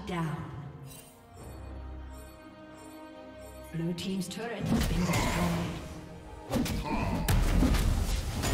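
A turret is destroyed in League of Legends during a Nasus versus Kai'Sa mid-lane match: heavy thuds and a crashing slam land over the game music, while an announcer's voice speaks.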